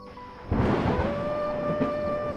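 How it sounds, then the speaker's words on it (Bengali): A sudden loud thunderclap bursts in and rolls on as a deep, sustained rumble, close and heavy. "হঠাৎ করে একটা বজ্রপাত পড়ল বিকট শব্দে।"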